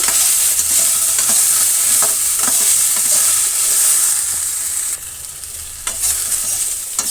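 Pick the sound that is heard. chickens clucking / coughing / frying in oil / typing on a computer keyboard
frying in oil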